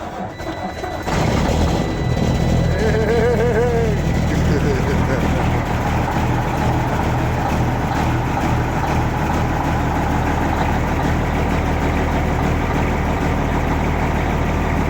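A 14-liter Detroit Series 60 diesel engine fires on a cold start and settles into a loud, steady, rumbling idle that continues unbroken, with a brief voice near the start.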